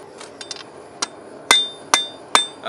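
A steel knife blank being forged with a hammer on an anvil: a few light taps, then three loud, ringing metallic blows spaced about half a second apart, close and clear with no talk.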